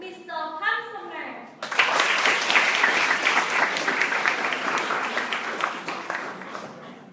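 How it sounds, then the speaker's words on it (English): A dense burst of audience clapping fills a conference hall at a student leadership event, starting abruptly after a few words from a voice and continuing steadily, slowly fading. "Please give a big applause to our first speaker, Mr. Pam Sumner."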